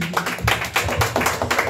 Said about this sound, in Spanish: Bonito el aplauso